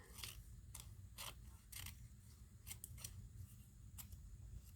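Scissors cutting words out of magazine pages, several crisp close snips spaced irregularly over a steady low room hum, with no voices.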